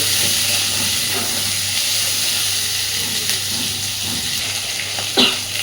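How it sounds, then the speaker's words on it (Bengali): Potatoes fry in hot oil with a steady, loud hiss like rushing steam, broken near the end by a brief knock from the pan. "তো এবার আলুগুলোকে আগে সুন্দর করে ভেজে নেব।"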